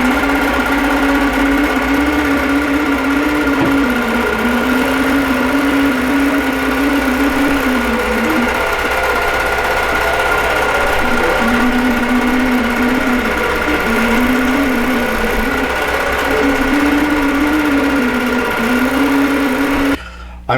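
A quilting machine stitches a quilt with a continuous fast whirring hum whose pitch wavers as the head moves, briefly dipping midway before resuming, near and steady until it stops at the end.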